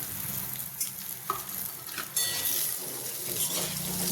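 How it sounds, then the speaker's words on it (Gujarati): Gunda (glue berries) frying in hot oil in a kadai, a soft steady sizzle with crackles and a few sharper pops as they are stirred. "હવે આપણે ગુંદાને તેલમાં મૂકી દઈશું."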